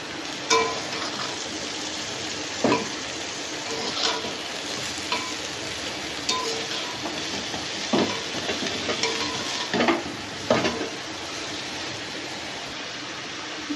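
Water lily stems tossed into a cooked-down spiced masala sizzle steadily while a spatula scrapes and stirs, with periodic sharp scraping strokes over a continuous frying hiss, close and moderately loud, no voices.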